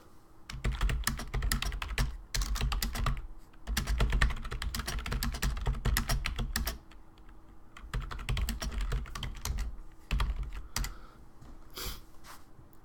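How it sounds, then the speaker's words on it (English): Steady computer keyboard typing, a fast run of close, crisp key clicks in bursts with short pauses between them, with no voices. "Switch over to typing here because I think that's going to be faster."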